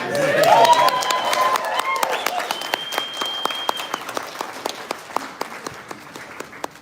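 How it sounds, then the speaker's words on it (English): Applause from a large audience at a celebration of life, dense clapping that swells early then gradually thins into scattered claps, with a faint whistle and cheer mixed in. "One more round of applause."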